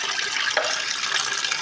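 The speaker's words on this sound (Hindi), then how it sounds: "मैं जल्दी से सारे बर्तन वॉश कर लेती हूँ" Water runs from a kitchen tap while dishes are being washed, a steady close hiss and splash with a brief clatter partway through, and no talk.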